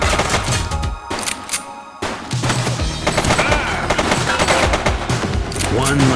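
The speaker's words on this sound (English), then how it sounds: "He's shooting!" Rapid automatic gunfire bursts and single shots rattle loudly in The Precinct, with brief gaps and ringing impacts between volleys and voices shouting over the shooting.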